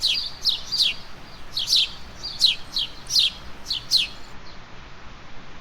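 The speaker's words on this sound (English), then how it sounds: "Sparrow." Sparrow chirping in quick, high, sharp notes, about nine chirps in small clusters over a soft background hiss, fairly faint and with no voices.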